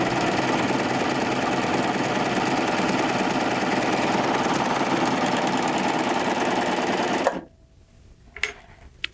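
A Baby Lock Triumph serger runs a 3-thread narrow overlock in a steady, fast mechanical hum for about seven seconds, then stops abruptly, leaving near silence with a couple of faint clicks.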